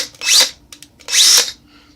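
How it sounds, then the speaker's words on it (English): Hercules 20-volt lithium cordless drill spun up twice in short bursts, each a loud close high whine rising in pitch and then cutting off, with brief clicks and a quiet pause between them. "Hercules drill. 20 volt lithium battery"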